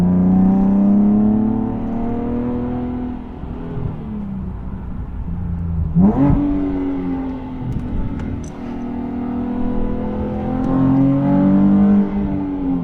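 A Nissan 370Z Nismo with a Fast Intentions exhaust revs up and down through corners, a sharp throttle blip marking an automatic rev-matched downshift before the engine climbs again, loud and close.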